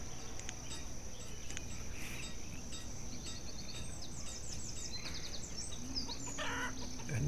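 Chickens cluck at a chicken breeder in the video game Banished, sounding over a steady bed of insect chirps and outdoor ambience, with short bird calls scattered through.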